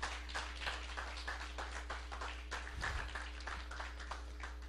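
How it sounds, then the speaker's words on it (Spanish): Church congregation claps during a Spanish-language sermon, a steady rhythmic patter of many hands over several seconds, mid-distance with a constant low hum beneath. "Denle un aplauso a Dios."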